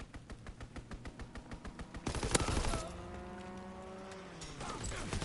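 Strafing run in Call of Duty WW2: rapid rhythmic gunfire bursts, then a loud burst of explosive impacts, followed by a droning aircraft engine fading under lighter fire.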